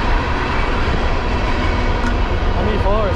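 A train passes nearby, its steady loud rumble and rail roar filling the air throughout, with a brief horn-like tone near the end while people chat close by during a soccer game in Austin, Texas.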